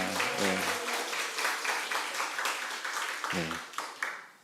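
A church congregation applauds to welcome newcomers, a moderately loud patter of clapping with a voice speaking over it at the start and again near the end.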